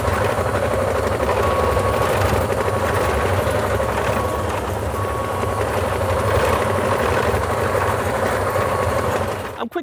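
A New Holland E90D excavator drives along, its engine giving a steady, loud drone with a faint whine and rattle throughout, close to the listener and with no speech.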